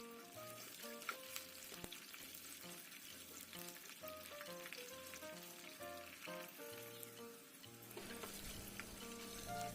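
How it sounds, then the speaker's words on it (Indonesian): Steady sizzling and crackling of peanuts and chilies frying in a pan, continuous and fairly loud throughout with occasional stirring scrapes, no voices. "Pertama-tama kita goreng dulu kacang dan cabenya."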